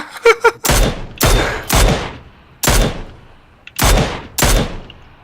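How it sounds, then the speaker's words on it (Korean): Gunfire in the battle game PUBG, with a few quick clicks and then six or so loud shots. They fire in uneven bursts, each with a sharp crack and a long echoing tail. "김영, 쟤들 다 쏴."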